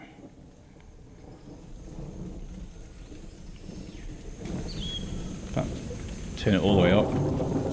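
Thunder sample from a music sampler rumbling low and swelling louder toward the end, with someone talking over it briefly.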